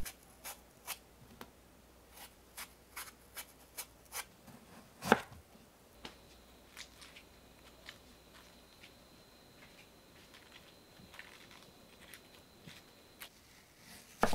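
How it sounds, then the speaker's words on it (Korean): A knife julienning a peeled, seeded Korean melon on a cutting board, with sparse, irregular sharp taps at first, then a steadier run of close, crisp chopping strokes. "참외를 채 썰어 주세요"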